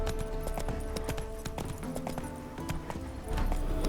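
Horse hooves clip-clop at a steady walk in The Witcher 3, a close, rhythmic series of knocking steps set against a dense game soundscape with occasional tonal notes.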